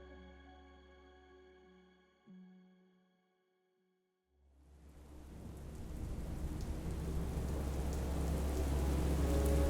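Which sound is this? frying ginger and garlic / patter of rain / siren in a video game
patter of rain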